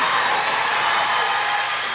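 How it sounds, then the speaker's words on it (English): A high school boys basketball crowd roars and cheers in a gym, a dense, loud, sustained wall of voices filling the whole moment. "Crowd roars to their feet."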